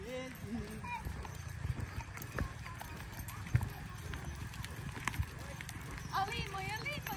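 Horses gallop along a track, with rapid hoof clatter and an occasional whinny, while several people chatter and shout excitedly in Portuguese over the top.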